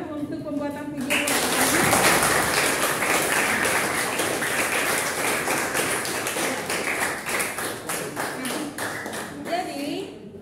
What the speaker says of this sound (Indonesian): mari kita beri tepuk tangan untuk pembuatan video ini.